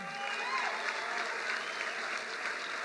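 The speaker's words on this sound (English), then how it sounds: "I told you before, give him applause." Rally crowd in Las Vegas applauding steadily, a dense even wash of clapping at moderate distance with faint cheering mixed in, no voice over it.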